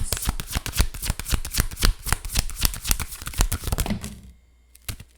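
Tarot cards are shuffled rapidly and continuously near the listener, a dense papery riffling with crisp flicks that runs for about four seconds before stopping, followed by near silence and one soft tap.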